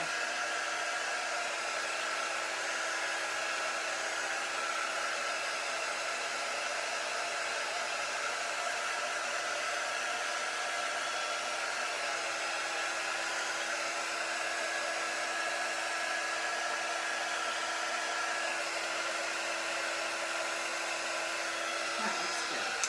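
A hair dryer blows steadily and close up for over twenty seconds, a continuous whooshing whine with a faint motor tone, drying ink on a paper craft project.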